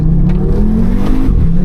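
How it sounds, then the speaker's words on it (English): A 2014 Audi RSQ3 compact SUV's five-cylinder engine revving up, a loud, close, rising growl with a throaty harmonic climb that eases off near the end, no talking. "Ah man, that 5-cylinder tone, man."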